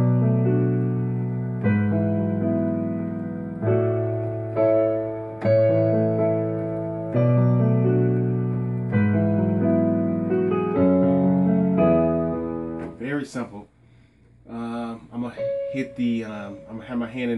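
Piano plays the A-chord verse of the worship song "I Call You Jesus", with sustained chords in a steady rhythm, loud and close, then breaks into lighter scattered notes near the end.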